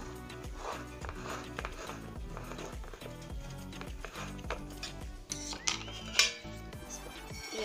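A baked Christmas cake being loosened from its mould, made without an oven: repeated metal scraping and clinking of a utensil against the tin, with a few sharper clinks near the end, steady and close.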